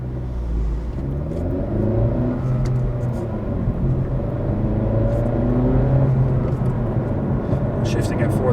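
Engine of a 2017 Honda Civic Hatchback Sport with a manual gearbox pulls steadily under acceleration, a continuous low rumble and rising drone heard from inside the cabin while a person talks over it.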